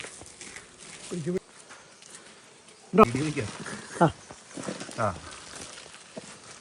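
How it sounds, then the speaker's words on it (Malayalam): Tiny stingless bees buzz around a hive during beekeeping work, a thin, intermittent drone heard close by under people talking, with a few sharper bursts. "വളരെ കുഞ്ഞൻ ഈച്ച കേട്ടോ"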